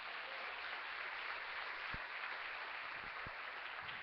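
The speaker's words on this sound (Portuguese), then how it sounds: "Dê um forte aplauso a Jesus." Church congregation applauding during a Sunday service, a dense, even wash of clapping heard from a distance at low level, with a few faint thumps underneath.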